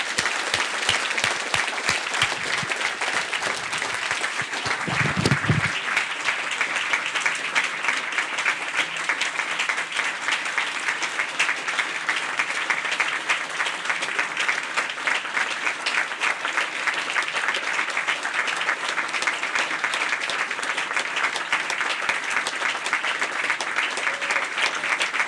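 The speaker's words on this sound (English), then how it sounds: "I'd like to have a large round of applause for the 3 people who have really made a difference in this school and this program." A large audience at a school event applauds at length for three honoured staff members, steady dense clapping filling the room for about 25 seconds with a brief low thump early on and no talking.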